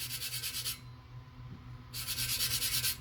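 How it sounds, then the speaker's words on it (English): A hand rubs back and forth against the side of a glitter-coated tumbler cup, giving a close, rhythmic scratchy swishing that pauses briefly in the middle before resuming, with no one talking. "if I rub the side of my cup"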